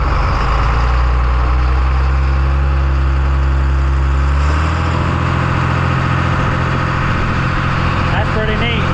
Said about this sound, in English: A rolled over tractor driving itself.